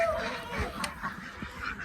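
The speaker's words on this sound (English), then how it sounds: "All the birds are still penned up, so they might be a little loud." Penned-up ducks and other fowl being loud, with honking and quacking calls overlapping nearby in an irregular chorus.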